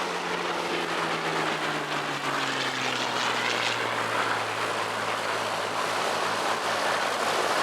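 A Hawker Hurricane flies past at an airshow, its propeller engine droning with a slowly falling pitch over a broad, distant roar, with no talk.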